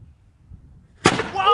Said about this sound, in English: He's got a cannon there, so we're going to fire it off.